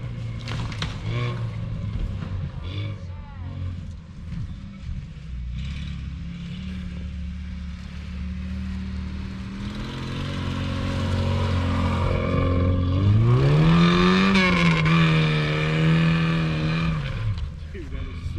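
An enclosed go-kart-like vehicle driving hard, its engine droning under excited voices and then climbing in a strong revving sweep near the end.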